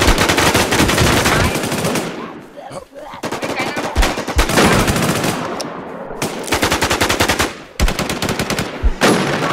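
Automatic gunfire in the Infestation video game, long rapid bursts of shots firing loud and close, broken by short pauses and a few single cracks.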